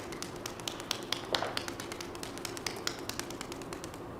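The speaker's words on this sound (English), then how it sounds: "The other thing you can do is pounding." Palms pound rhythmically on the quad muscles of the thigh during a self-massage with the knee bent, giving a steady run of soft, quick, close thuds that go on without talking.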